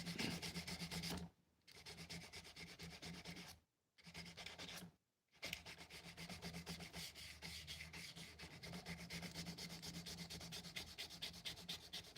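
Close, steady wet rubbing of 400 grit sandpaper during finishing, a continuous rasping stroke broken by two brief pauses before resuming.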